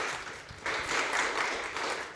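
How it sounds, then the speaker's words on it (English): Audience applause for a startup pitch at the Wolves Summit 14 conference: a steady wash of clapping swells after a brief quieter start and continues evenly to the end. "Let's give a round of applause to Circuit."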